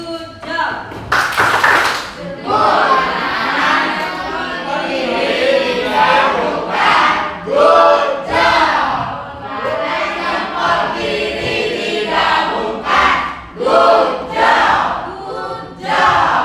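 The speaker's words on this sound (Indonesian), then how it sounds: "Kita mengapresiasinya dengan tepuk good job" A classroom group doing a rhythmic 'good job' clap routine, with claps, taps and shouted chanting voices, loud and close throughout.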